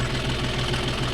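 John Deere 5050D GearPro 4WD tractor engine running with a 9-point arm cultivator, a close, steady, throbbing diesel chug with rapid regular pulses, loud throughout.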